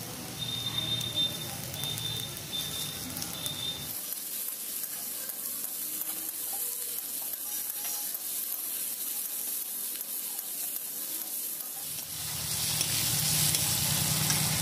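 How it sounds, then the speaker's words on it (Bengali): Ground garlic and ginger paste fries in hot oil with a continuous soft sizzling hiss, briefly interrupted by cuts, heard alone at close range. "মশলাটা ভাজা ভাজা হয়ে গেছে।"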